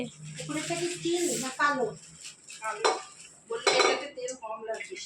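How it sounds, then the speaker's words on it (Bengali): A pressure cooker and its lid are unpacked and handled as a gift, giving metallic clatter and clinks of pots and cutlery under steady nearby speech from several people. "এই হচ্ছে গিয়ে ঢাকনি, এই হচ্ছে গিয়ে প্রেশার কুকার, আমাদের দেওয়া প্রেশার কুকার"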